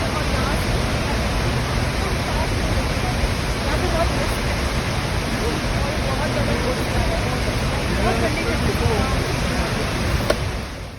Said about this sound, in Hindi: साउथ फॉल के बहुत पास हम आ गए हैं